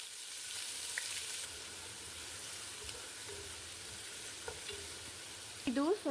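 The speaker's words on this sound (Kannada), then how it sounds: "ಇದು ಸ್ವಲ್ಪ ಗೋಲ್ಡನ್ ಬ್ರೌನ್ ಕಲರ್ ಬರಬೇಕು, ಅಲ್ಲಿ ತನಕ ಈರುಳ್ಳಿನ ಫ್ರೈ ಮಾಡ್ಕೋಬೇಕು." Onions frying in a pan until golden brown for tomato bath, a soft continuous low sizzle with occasional faint stirring clicks, ending in a brief louder clatter.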